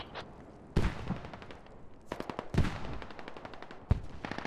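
Machine guns rattle in a video game firefight between Australian troops and insurgents, with three bursts of rapid close shots separated by brief lulls and no talk.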